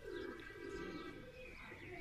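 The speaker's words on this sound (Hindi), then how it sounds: "ये जो कबूतर नीचे बैठा हुआ है" Soft, low pigeon cooing close by, a gentle warbling murmur over faint background noise.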